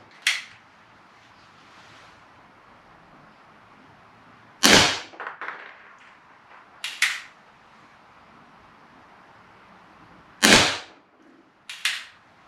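A Barra Schofield BB gun fires a series of sharp, close cracks, several of them with quieter follow-up clicks, spaced irregularly across the stretch with near-silence between shots and no talking.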